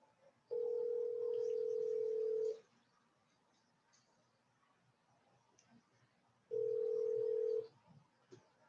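An outgoing telephone call rings back twice, each a steady electronic tone lasting about two seconds and one second, separated by a quiet pause with faint background noise.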